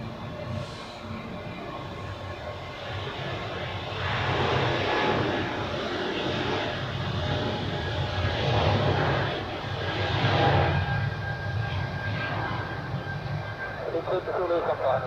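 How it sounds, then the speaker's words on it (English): Jet airliner engine roar from a KLM departure at Zurich Airport, a steady broad rumble that swells and fades in waves, with radio chatter running underneath. "Next we have KLM departing to Amsterdam, followed by Sun Express to Gaziantep"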